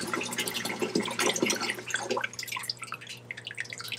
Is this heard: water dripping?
yes